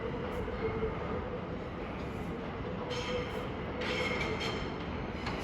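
A long northbound Greater Anglia train at a London terminus station gives a steady, moderately distant rumble with faint brake squeals and hissing in the background.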